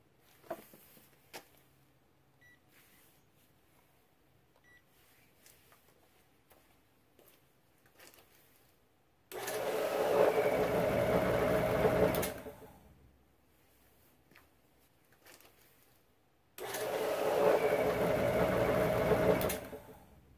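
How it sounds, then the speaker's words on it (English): An electric motor spins gas generator components in two separate runs of loud, steady whirring mechanical drone, each about three seconds long, with quiet pauses and faint clicks in between and no voices. "The second motor will provide the initial rotation for all devices."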